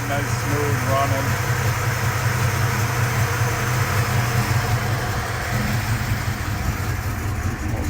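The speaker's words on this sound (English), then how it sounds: "They're in here listening to the engine." A 1969 Chevrolet Chevelle engine idles with a steady low hum and faint mechanical whir, continuous and close, while someone talks quietly over it.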